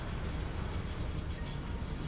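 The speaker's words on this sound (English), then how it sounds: "One heck of a train ride." A train rolls along in the factory-building game Satisfactory, making a continuous dense rumble with a low hum and no distinct clacks, steady and fairly loud with no voices.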